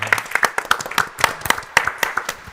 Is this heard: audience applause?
yes